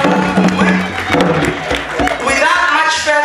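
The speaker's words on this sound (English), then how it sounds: "Please give them a round of applause" Applause and cheering from guests at a bridal shower, a crowd's claps and voices blending with talk in the room, steady and fairly loud.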